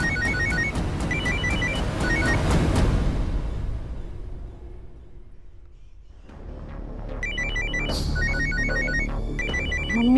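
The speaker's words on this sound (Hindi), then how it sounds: "मम्मी का ही फोन होगा, उस वक्त कट गया था इसलिए दोबारा कर रही होंगी।" A telephone ringing for an incoming call, repeated electronic ring bursts that fade out midway under a soft whoosh, then return loud and close.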